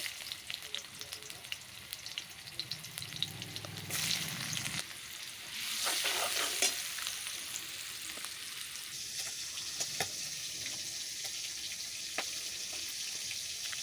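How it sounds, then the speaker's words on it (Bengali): Sliced onions go into hot oil in a wok: the sizzle swells loudly once they drop in, then settles into a steady crackling fry with faint clinks and no voices. "উনানে কড়াই বসিয়ে দিয়ে দিলাম পরিমাণ মতো তেল, দিয়ে দেব পেঁয়াজ"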